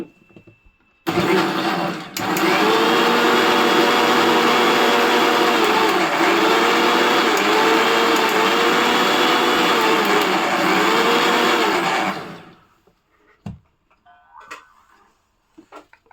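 A mixer grinder blends breakfast ingredients with a loud, steady motor roar. It runs for about eleven seconds, then cuts off, leaving a few faint clicks and knocks.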